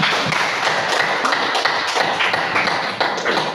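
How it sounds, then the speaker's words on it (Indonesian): A classroom group clapping together, a dense, fairly loud patter of hand claps that holds steady for a few seconds. "beri tepuk tangan untuk kita semua"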